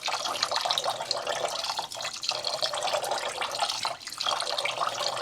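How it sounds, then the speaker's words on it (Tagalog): Tap water running into a pot of rice being cooked with turmeric in a home kitchen, a steady close splashing stream that continues throughout with a couple of brief dips. "dapat maraming tubig, no?"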